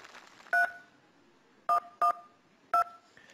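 Telephone keypad tones sound as a caller is dialled during a Uyghur concert broadcast: four short, clear beeps, two of them close together, over a quiet room background.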